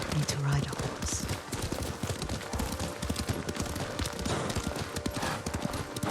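Rhythmic clip-clop of horse hooves during riding in the video game Ghost of Tsushima, steady and continuous beneath game music and characters talking.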